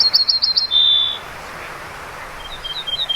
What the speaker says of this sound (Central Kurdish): بولبولەکان بە کەیفتر دەخوێن